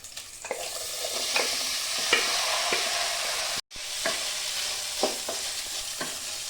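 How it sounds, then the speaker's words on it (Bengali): Rice for Bengali basanti pulao frying in ghee with whole spices in a pan: a steady, close sizzle with repeated stirring scrapes throughout and one brief pause. No voices. "এখন একটু আমি ভালো করে এটা ভেজে নেব।"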